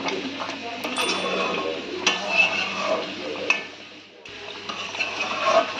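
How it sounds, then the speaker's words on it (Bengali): Mughlai chicken is stirred in a pan with chopped coriander, with a spoon scraping and clinking against the metal in irregular knocks over a faint background sizzle, with no speech. "আর একটু মিক্স করে নেবো ধনেপাতা কুচি দিয়ে"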